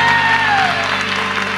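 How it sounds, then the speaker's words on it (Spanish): Applause from the audience at a Mexican nasal-voice contest, a loud dense wash of clapping with crowd noise and a sliding whistle-like tone near the start. "¡Aplausos!"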